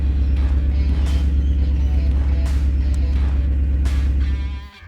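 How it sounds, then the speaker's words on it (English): A car engine runs at idle right after starting, a loud close rumble holding steady with a faint higher whine on top, before cutting off abruptly at the very end. "Now fire up the car."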